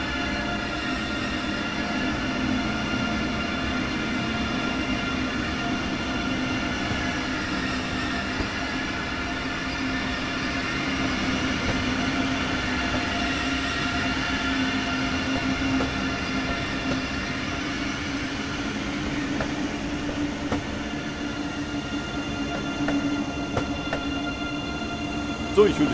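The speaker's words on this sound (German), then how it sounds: "ICE3 hat Ausfahrt, wunderschön." ICE3 high-speed train pulling out in Train Sim World 3, a long steady rail rumble with faint wheel squeal and tonal motor whine building slowly. A clunk comes right at the end.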